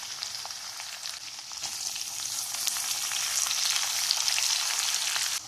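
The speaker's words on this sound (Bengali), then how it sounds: "পেঁয়াজ আর রসুন কিন্তু খুব ভালোভাবে ভাজা হয়ে গেছে" Chopped onion and garlic fry in hot oil for a chicken dish, giving a dense, continuous close-up sizzle that swells slightly louder over a few seconds, with no talking.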